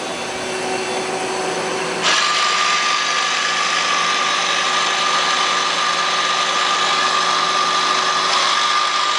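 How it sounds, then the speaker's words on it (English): A Citizen L32 Swiss-type CNC lathe from 2004 spins up its live tool with a sudden jump to a loud, steady mechanical whine and hum that holds to the end. "We're going to run the live tool."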